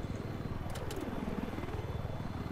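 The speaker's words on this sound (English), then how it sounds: "I think they have some problems with their attack chopper." Attack helicopter in a tactical video game, its rotor thumping as a steady low drone that fills the whole stretch at constant loudness, with brief high-pitched blips over it.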